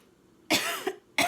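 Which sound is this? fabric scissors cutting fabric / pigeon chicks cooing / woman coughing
woman coughing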